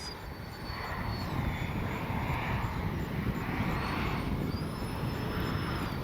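An X-Fly J-65 RC jet sweeps low along the runway on a rainy day with its gear down, a faint, steady turbine whoosh that swells gently and lingers, with a thin high whine layered on top.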